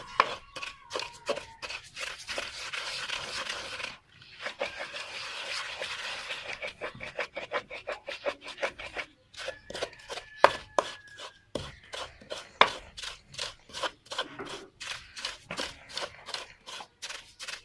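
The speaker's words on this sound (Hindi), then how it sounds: "खसकास हमने कूट लिए" Poppy seeds (khaskhas) pounded for thandai, a steady series of sharp rhythmic thuds and scrapes that pauses briefly and then resumes, close and moderately loud.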